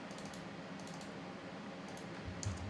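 Keys clatter quietly on a computer keyboard in a few brief bursts of typing over a steady low room hiss.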